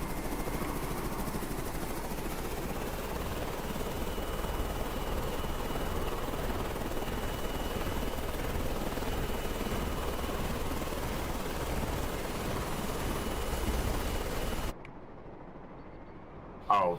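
Helicopter in the naval strategy game Carrier Command 2, a steady rotor and engine drone holding loud and constant for most of the span before cutting abruptly to near silence.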